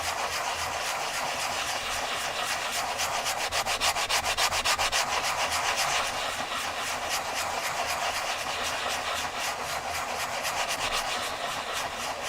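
Steady, continuous scraping of coarse-grit sandpaper being rubbed back and forth, loud and close, running unbroken with no talk.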